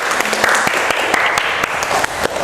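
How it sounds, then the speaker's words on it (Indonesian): Classroom applause during a dance-composition lesson, a short burst of brisk close clapping from a small group, loud and steady throughout. "Oke, tepuk tangan dulu."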